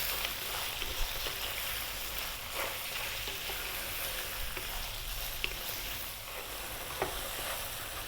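Garlic fries in a pot over medium heat for an Ethiopian lamb and potato stew, a steady close sizzle and crackle with occasional sharp pops, continuing alone without talk.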